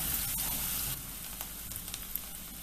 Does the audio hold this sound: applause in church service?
no